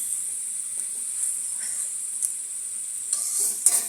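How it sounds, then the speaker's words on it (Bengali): Fish cooking with sponge gourd for a curry fries in a pan with a steady, bright hiss of sizzling oil and occasional soft stirring taps, close up and without voices. "আমি আরেকটু কষান, তারপরে তুলে নিব মাছগুলো।"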